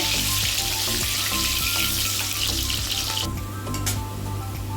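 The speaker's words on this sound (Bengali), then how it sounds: "কাঁচকলাটা দিলাম, এটা ভাজা ভাজা হয়ে গেলে আলুটা ভেজে নেব" Green banana pieces frying in hot oil for shukto, a loud continuous sizzle that drops sharply partway through, close and without talking.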